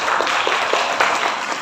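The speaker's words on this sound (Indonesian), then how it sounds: "Kita berikan tepuk tangan yang meriah untuk Mas Gofur." An audience at an indoor gathering of a regional disability group gives a speaker a steady burst of applause, a dense wash of hands clapping together with no break.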